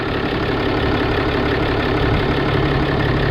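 A 2017 Ram 3500 with a Cummins diesel engine and a Banks air intake idles under an open hood, a steady, even, close-up rumble with no voices.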